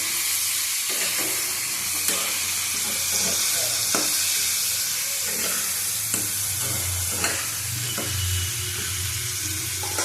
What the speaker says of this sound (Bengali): এবার ঢেকে ঢেকে কষাবো, এতেই বাকি সিদ্ধ হয়ে যাবে টমেটোর জলে